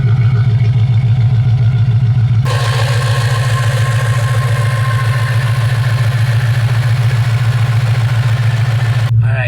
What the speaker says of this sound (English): I'm going to listen to the engine real carefully these first couple of seconds